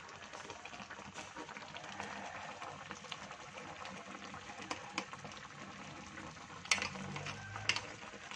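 Bread pieces frying in a pan for Hyderabadi double ka meetha give a faint, steady sizzle with occasional clinks as they are moved around. The kitchen is quiet and no one speaks.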